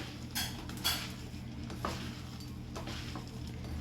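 Dal mixed with turmeric and salt in a bowl gives soft clinks and scrapes at irregular intervals over a low background hum, close but fairly quiet with no talking.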